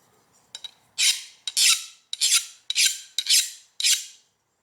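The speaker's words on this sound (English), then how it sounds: "let's try the file test on it" A hand file skates across the new hardened jaws of a Wilton Tradesman vise. About six sharp, rasping strokes come close together at an even rhythm, with no talk.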